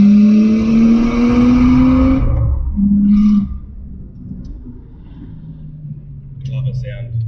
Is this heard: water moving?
no